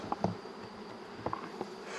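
Honeybees hum inside a hive super, a soft buzzing drone with a few brief louder flicks of wings close by.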